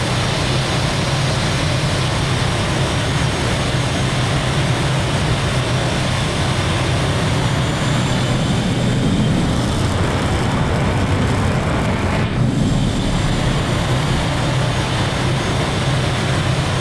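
An aircraft lands on a runway in the DCS flight simulator game. A loud, steady engine roar with broadband rushing noise fills the whole stretch, with a brief surge near the end and no talk.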